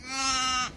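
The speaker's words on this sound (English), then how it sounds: "Oh, there we are, 2 lambs." A single lamb on a sheep farm lets out one close, clear bleat with a wavering pitch, lasting under a second, during lambing season at Incheoch Farm.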